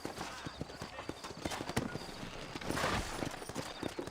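Horse hooves clip-clop in an uneven walking rhythm in Red Dead Redemption, several horses close by leaving town, with a faint breathy snort partway through.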